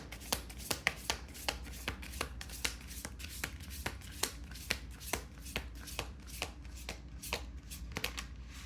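Tarot cards being shuffled, a quick steady series of crisp riffling snaps repeating about twice per second, close and moderately quiet with no voices.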